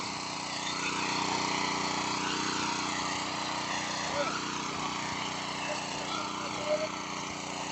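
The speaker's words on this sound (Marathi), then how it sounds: "पुढे आपलं मशीन चालत आहे" A small engine on an inter-cultivation weeding machine drones steadily as it works a farm field, a continuous mid-distance hum with slight wavering pitch and no pauses.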